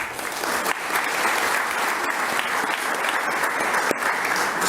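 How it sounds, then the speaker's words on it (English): Sustained applause from an audience at a school committee meeting, continuous and fairly loud clapping that holds steady throughout without talk. "glad we were able to give her and both Mark a round of applause as well"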